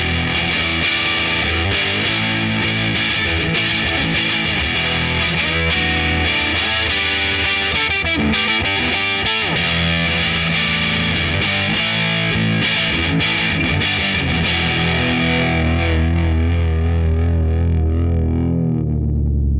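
Electric guitar through a fuzz pedal, with the fuzz control set between 9 and 10, playing a continuous run of thick, heavily saturated riffs and sustained notes, loud and unbroken, with no talk.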